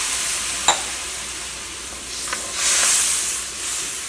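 Egg roast curry gravy being stirred in a pan after water is added, a steady sizzling hiss with a few brief scraping clicks and swells of bubbling, close and continuous with no talk.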